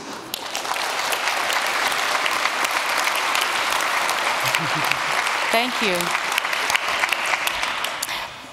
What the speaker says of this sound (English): A big round of applause, please, for Kathleen.